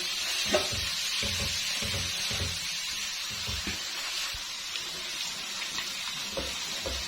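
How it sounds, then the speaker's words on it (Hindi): Ginger and garlic fry in a pan for Mughlai chicken changezi, with a steady, dense sizzle running throughout and soft stirring scrapes and taps of a utensil underneath. "इसको 2 से 3 मिनट में ये फ्राई कर लूँगी। ये इसको लाइट ब्राउन करना है"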